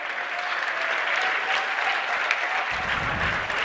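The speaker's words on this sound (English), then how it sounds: "they get a nice round of applause from the student section and the rest of the fans" Steady, dense applause fills a high school basketball gym as the student section and other fans clap near the end of the game, a loud sustained wash of many hands with crowd murmur mixed in.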